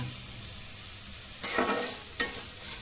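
Vermicelli being fried and stirred in a pan for a pulao: a soft steady sizzle broken by two brief bursts of spatula scraping, close and quiet, no talking.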